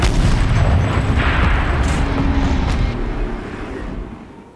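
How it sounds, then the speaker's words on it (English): A tank turret fires in Horizon Zero Dawn: a heavy booming blast with a rumbling tail that slowly fades over several seconds, heard without speech. "Rotate turret! And fire!"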